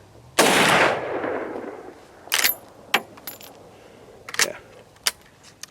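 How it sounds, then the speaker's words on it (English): A Marlin 336 lever-action rifle in .30-30 Winchester fires one loud, sharp outdoor shot that rings out briefly, followed by metallic clicks and clacks of the lever action being worked. "let me get this one last round off"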